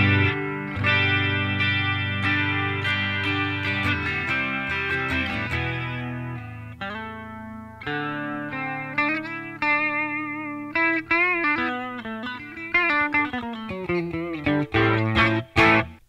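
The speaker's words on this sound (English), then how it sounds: "Want to add some chorus to it? Let's add some chorus to it." Clean electric guitar notes and chords through a Boss Katana Mk 2 amplifier shimmer with a wavering chorus effect, played alone with a lush, doubled tone.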